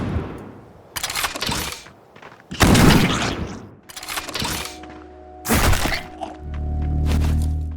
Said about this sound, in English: I especially like the impact of the gunshots, or the satisfying crack of blunt weapons as they bash enemies